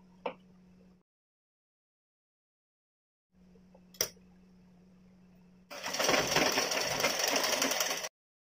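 A sewing machine stitches blouse design pieces together, with a low hum and a click in two short spells, then a louder, dense whirring run of rapid stitching that stops abruptly.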